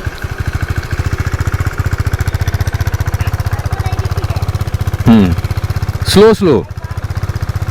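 A motorcycle engine thumps steadily in a fast, even rhythm at low speed while the clutch is eased out slowly. The sound is loud and close, and a person speaks briefly over it near the end.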